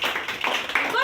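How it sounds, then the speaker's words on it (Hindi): A classroom of students claps for a classmate in a short burst of dense, close applause lasting about a second, with a voice faintly underneath. "ताली बजा दो सब इसके लिए।"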